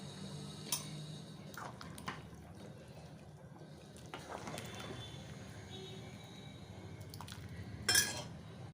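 Anglo-Indian brown stew and cooked white rice are served onto a plate, with scattered clinks of a spoon against dishes, soft wet scooping and a brighter clatter near the end, close by and without speech.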